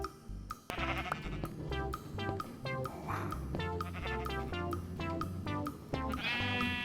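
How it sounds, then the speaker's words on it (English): Minecraft sheep bleat repeatedly in quick, overlapping calls, several animals close by in a flock, loud and continuous with short pauses between bleats and no speech. "Let's see if we can get the rest of these sheep."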